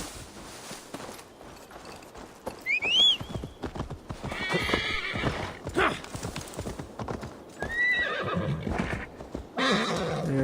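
Horse hooves clopping rhythmically in Assassin's Creed Valhalla, with a couple of whinnies and faint background game sounds throughout.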